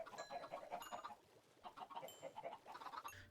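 Chickens clucking in a pen in Minecraft Skyblock, a steady run of short, overlapping clucks and chirps at moderate level across the whole stretch.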